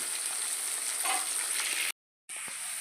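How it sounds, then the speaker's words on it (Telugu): Onions fry in a pan with a steady, close hissing sizzle that cuts out briefly and then resumes. "ఇప్పుడు ఉల్లిపాయలు అనేది చేసుకోండి ఇవి బాగా వేగాలి"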